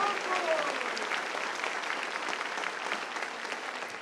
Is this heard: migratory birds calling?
no